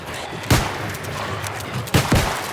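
Gunfire in the video game New World, with two sharp, loud shots about a second and a half apart, the second followed closely by another thump over a steady background hum.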